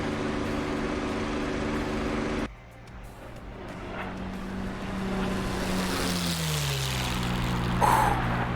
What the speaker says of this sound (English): That is a nice sounding airplane.